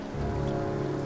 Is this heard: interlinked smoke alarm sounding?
no